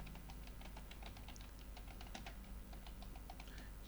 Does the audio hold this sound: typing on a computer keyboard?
yes